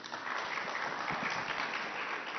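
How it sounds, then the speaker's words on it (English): Muffled, steady clapping from a summit audience after an actor speaks on stage, a brief continuous wash of applause heard through narrowband sound. "I think we should applaud that."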